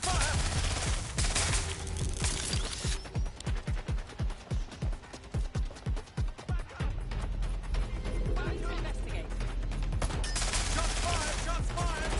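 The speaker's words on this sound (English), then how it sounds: "Shots fired!" Rapid automatic gunfire in Watch Dogs: Legion, with a long stream of sharp, evenly spaced shots in the middle and denser bursts around it, loud and close, alongside game sounds and occasional voices.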